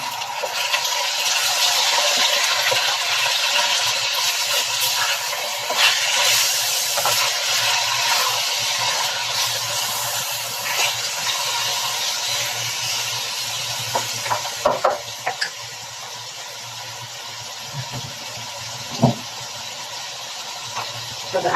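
Marinated chicken frying in a pan, a steady close hiss and sizzle that runs throughout, easing slightly later on, with a few clinks and stirring knocks.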